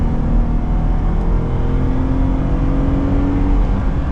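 A Jeep Gladiator Rubicon pulls away hard from a standing start on the road, its engine and tire roar loud, close and steady throughout, with no voices over it.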